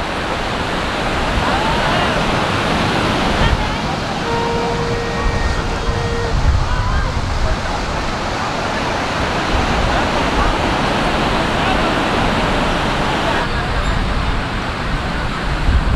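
Sea waves at the seashore in Puri roll in as a broad, steady roar of surf with wind noise, loud and continuous, with faint voices in the background.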